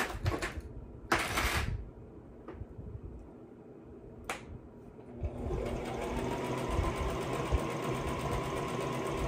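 A sewing machine stitches a fabric seam for a maxi dress, its steady motor whir starting midway and running continuously after a few sharp clicks and taps from handling the fabric.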